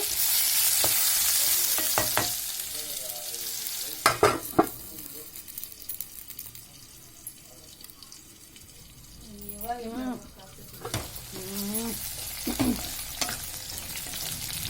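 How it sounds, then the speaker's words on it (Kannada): Green tomatoes fry on a low gas flame for chutney, a soft steady sizzle with occasional stirring scrapes, near and moderately loud, while a voice talks intermittently over it. "ಸಿಮ್ಮಲ್ಲಿಟ್ಟು ಫ್ರೈ ಮಾಡ್ಕೋಬೇಕು ಗ್ಯಾಸು ಹಸಿ ವಾಸನೆ ಎಲ್ಲ ಟೊಮೊಟೊದು ಹೋಗಬೇಕು"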